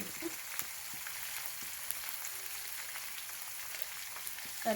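Curry leaves frying in oil in a pan while making avalakki upma (flattened rice upma) in a village kitchen, a steady soft sizzle and crackle running throughout with no talk.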